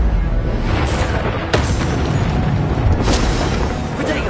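Incendio fire spell exploding in Hogwarts Legacy, a loud sustained rumbling blast with a sharp crack partway through and another burst near the end, dense and close.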